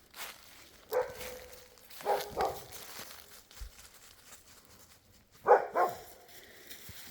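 A dog barks a few times in short bursts, moderately close, with quiet gaps between the barks.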